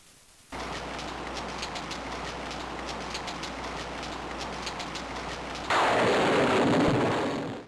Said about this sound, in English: It starts to rain.